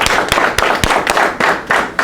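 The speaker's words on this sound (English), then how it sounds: "Give him a round of applause" A small group clapping at a religious gathering, a loose, uneven handful of sharp claps close by, each about a quarter second apart, with no talk over them.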